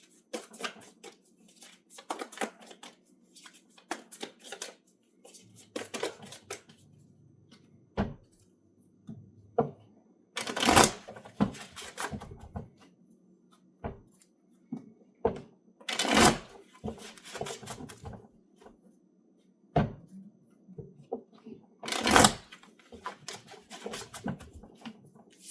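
Tarot cards being shuffled and handled in bursts of crisp riffling and slapping, separated by short quiet gaps, close and fairly loud with no talking.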